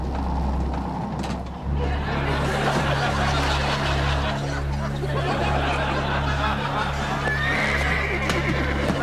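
A cartoon horse gives a loud whinny, followed by rhythmic clip-clopping hooves with a mechanical whirring underneath, close and clear throughout.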